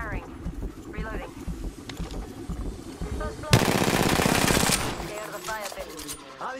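Automatic gunfire in the Apex Legends video game: a loud, sustained burst of rapid shots in the middle, with voices talking before and after it.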